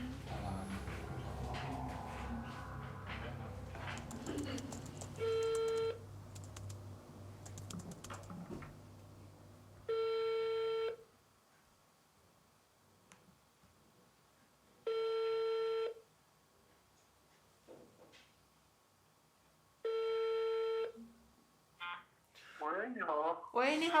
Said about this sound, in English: A few days later, we try to reach him by phone.